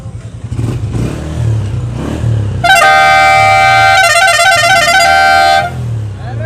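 A decorated 2020 Honda CG 125 self-start motorcycle sits nearby with its engine running and rumbling, joined midway by a loud, multi-tone horn that blares for about three seconds before the engine note carries on alone.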